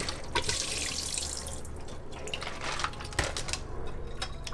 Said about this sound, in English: I only filled it up with tap water because there's no beneficial bacteria in here, and I'm just rinsing off the debris